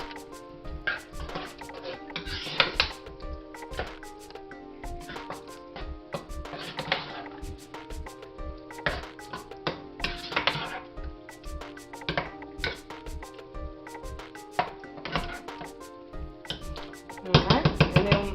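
Chili with seasoning stirred in a pot, a spoon scraping and knocking against the sides in a steady repeating rhythm, close and clear, with a louder clatter at the end.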